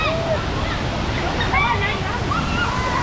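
Kuang Si Waterfalls near Luang Prabang, Laos, pour into pools with a steady, loud rushing hiss of falling water, while people's voices murmur through the roar.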